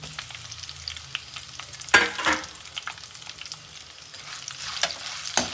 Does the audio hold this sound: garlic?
yes